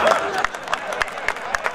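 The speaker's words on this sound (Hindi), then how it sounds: "तालियां आपकी कमजोर है" Sparse, half-hearted clapping from the audience at a Hindi comic poetry gathering, a handful of separate claps spaced out under murmuring voices.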